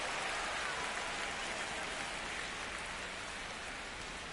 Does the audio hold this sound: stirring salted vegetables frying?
no